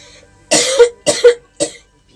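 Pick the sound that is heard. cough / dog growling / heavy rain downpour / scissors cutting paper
cough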